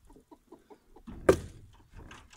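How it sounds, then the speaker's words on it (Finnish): Chickens being fed make a run of short, soft clucks in a steady rhythm, then a louder close squawk, with scattered clucking continuing at moderate level. "Sitten mun rutiineihin kuuluu kanojen ruokkiminen."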